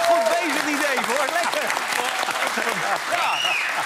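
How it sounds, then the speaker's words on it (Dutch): Audience applause in a Dutch TV show studio, a dense steady clapping wash lasting the whole stretch, with a voice talking over it throughout. "Applaus, dames en heren, Dave!"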